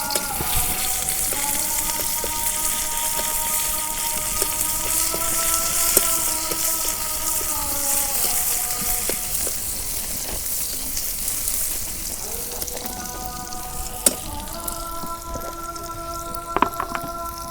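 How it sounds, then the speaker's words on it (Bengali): Chopped onion fries in hot oil for a village-style rupchanda curry with tomato and eggplant, a continuous, moderately loud sizzling hiss layered with steady tonal whining and a few sharp clicks near the end. "এখন আমি পেঁয়াজ কুচি দিয়ে দিই তেলের মধ্যে"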